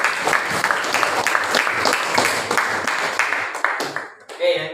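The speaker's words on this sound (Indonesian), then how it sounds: "sekali lagi beri tepuk tangan untuk Bella yang telah memberikan presentasi" Audience applause after a classroom presentation, uneven hand clapping from a small group with distinct individual claps, tapering off near the end as a voice starts to speak.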